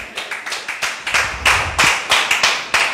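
A church congregation claps together in praise of the Lord, an even run of sharp, bright handclaps that is loud and close and goes on without any speech.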